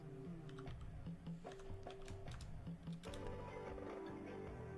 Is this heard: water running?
no